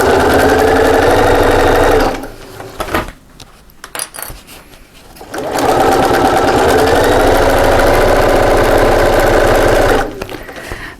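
A sewing machine stitches around the top of a fabric box section of a double cup holder, running in loud, steady whirring bursts, pausing briefly with a few clicks and handling sounds before starting up again.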